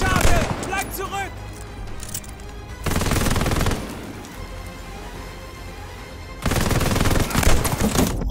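Gunfire in the World War II shooter Call of Duty Vanguard on the Normandy map, loud bursts of shots and rapid fire rising in several waves over a dense in-game battle din, while players talk throughout.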